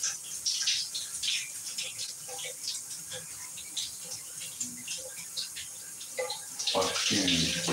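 A steady wash of shower water running through the whole stretch, broadband and hissy with small splashes, with louder spraying toward the end; a man is present, with brief voice sounds under the water.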